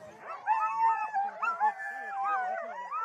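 Impatient sled dogs at a sled dog race howling and yipping together in a loud, close chorus of wavering, overlapping howls with short barks and whines.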